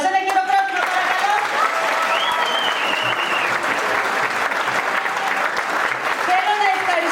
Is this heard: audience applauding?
yes